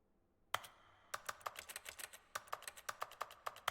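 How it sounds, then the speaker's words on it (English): In The Stanley Parable: Ultra Deluxe, a keyboard-like clicking runs as a rapid, fairly steady train of crisp taps that starts after a brief pause and carries on to the end, close but quiet. "why is this making a clicking noise like I'm on a keyboard?"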